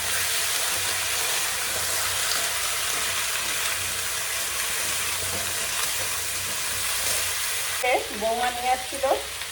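Sliced plantains fry in hot oil with cumin and bay leaf, giving a loud, steady crackling sizzle that fills the whole stretch, close by, with a few faint clinks and scrapes near the end.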